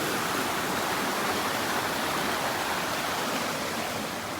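River water rushing over rocks on a steep, hard-to-walk stretch upstream, a steady full broadband roar like a small waterfall, loud and constant with no voices.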